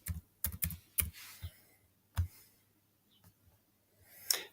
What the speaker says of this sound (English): Now, going to type in my password.